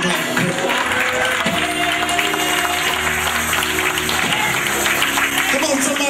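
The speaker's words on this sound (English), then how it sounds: "Come on, somebody, give him a hand clap." A church congregation claps and applauds at a New Year's service, a steady wash of hand claps under music and a preacher's voice.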